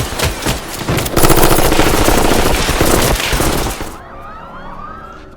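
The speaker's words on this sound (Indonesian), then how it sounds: "Baku tembak terjadi" Loud gunfire rattles in a police shootout scene from a crime film, rapid bursts of automatic shots mixed with sirens and chaos for about four seconds, then dropping to a quieter ringing tail.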